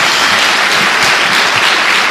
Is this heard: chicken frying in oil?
no